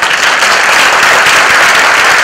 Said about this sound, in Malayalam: ഇത്രയും കയ്യടി പോരാ സത്യത്തിൽ